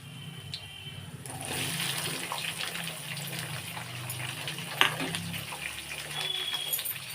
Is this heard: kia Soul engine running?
no